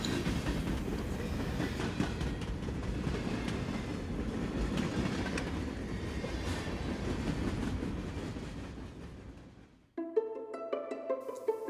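Train riding on rails, a steady rumbling roar with faint rhythmic clatter for about ten seconds, close and continuous, then cutting abruptly to music.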